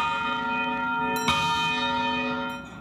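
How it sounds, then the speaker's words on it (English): A large bell rings at a clock shop's annual chime event, one struck tone with a long, ringing decay and a second faint strike near the end, loud and close. "And that is one big bell."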